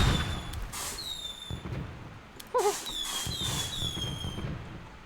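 Fireworks with whistling, rising tones streak through the clip, broken by a sharp crackling burst midway, then more whistles; fairly faint with no talking.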